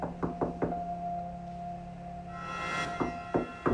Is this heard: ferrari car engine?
no